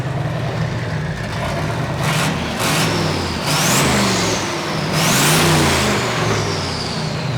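A car engine revs hard several times, loud and near, rising and falling in pitch with a steady rough drone underneath and no talk.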